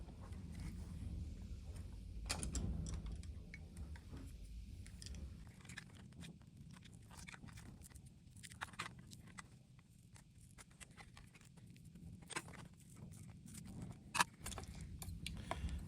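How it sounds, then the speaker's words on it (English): A flat-bladed screwdriver pries a stuck battery off double-sided tape inside a Boatman Actor Plus GPS remote, giving faint, sporadic scraping clicks and small cracks over a quiet, low background rumble. "I'm just going to slowly work at the corners of the battery with a flat-bladed screwdriver just to try and separate the bond from the double-sided tape"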